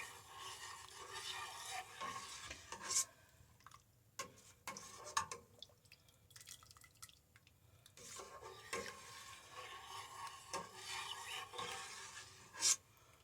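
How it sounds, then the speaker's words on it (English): A spoon stirs and scrapes through fish and corn chowder in a pot, quiet irregular clinks and sloshing with a couple of sharper taps against the metal, close by and without talking. "we're going to stir it occasionally"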